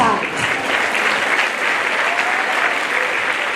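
Sustained applause from a large audience at a primary school ceremony, dense clapping that stays loud and even throughout without a break.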